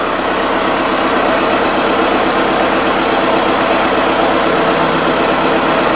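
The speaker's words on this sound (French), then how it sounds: "il a démarré le véhicule" An Audi Q3 2.0 TDI diesel engine idles during a particle filter cleaning, a loud, close, steady rumble with an even mechanical throb that holds unchanged throughout, with no talking.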